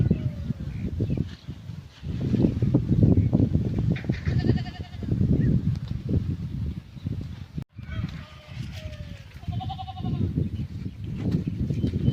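Goats bleat several times over a busy outdoor background with steady low rumble and some ducks or birds calling nearby.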